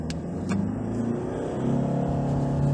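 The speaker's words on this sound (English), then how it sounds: "Look, that was red line, it did not automatically upshift." A 2022 Mitsubishi Strada pickup truck's engine revs steadily to redline under load without upshifting, its droning pitch climbing throughout, heard from inside the vehicle with no talking.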